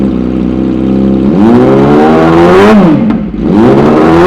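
A 2012 Yamaha R6 Cornering Edition 600cc sports motorcycle revs hard, starting from a steady idle and climbing in pitch, dropping and surging again, loud and close with no talk.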